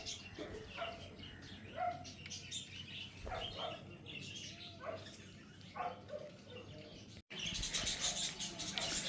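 Caged birds chirp in short, scattered bursts over a faint background, with a louder, noisier stretch in the last couple of seconds.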